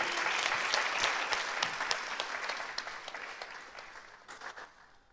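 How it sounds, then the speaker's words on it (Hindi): An audience at a Sunday feast lecture claps steadily, a dense, fairly quiet round of applause that slowly fades out over about five seconds. "Give her a clap."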